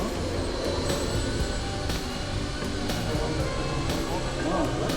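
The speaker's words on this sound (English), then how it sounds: "you can hear how quiet the twin EDFs are" Twin electric ducted fans drive a flying model aircraft with high aspect ratio wings at low throttle, giving a steady, fairly quiet whir over outdoor wind noise while a person talks.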